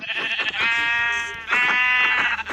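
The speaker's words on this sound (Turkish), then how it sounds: "Arkadaşlar pembe koyun buldum." Two long, wavering bleats from a pink sheep in a video game, loud and close, with a brief pause between them and soft clicks and thumps in the background.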